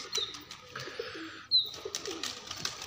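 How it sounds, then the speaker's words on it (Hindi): Pigeons coo softly outdoors, low murmuring calls with a couple of faint chirps and a brief sharp sound midway, moderately near. "सारे कबूतर मस्तियाँ शस्तियाँ कर रहे हैं।"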